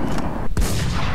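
A gunshot in modded Minecraft: a single sharp, loud shot cracks out midway through a short burst of dense game noise, with no talk.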